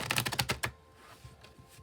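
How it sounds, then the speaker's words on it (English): A deck of tarot cards is shuffled in a quick riffle, a close burst of rapid crisp clicks lasting under a second, followed by faint quiet. "I'll shuffle till the deck feels ready, then I'll cut"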